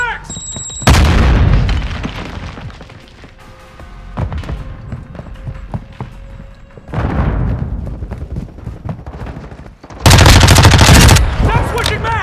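Call of Duty: Modern Warfare II battle with a Semtex grenade blast and gunfire: sudden loud booming explosions and bursts of rapid automatic shots come in waves between quieter stretches, with voices shouting over the action.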